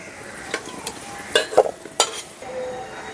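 Potato pieces fried red in hot oil are lifted out of the pan for a rui fish curry, a soft sizzle broken by a few sharp scrapes and metal clinks of the utensil, close and without voices.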